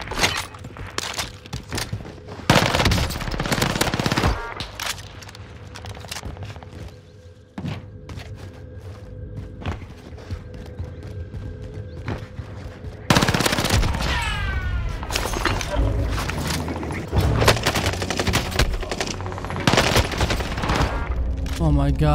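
RA 225 SMG in Warzone firing in several loud rapid bursts, separated by quieter stretches of movement, footsteps and game ambience, with brief talk in places.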